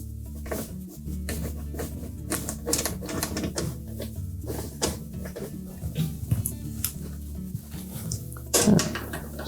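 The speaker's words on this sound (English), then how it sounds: "Put our screws back in." Screws driven into the back panel of a Whirlpool washer: quiet bursts of whirring and clicking from a driver, irregular and close by, with faint handling knocks between them.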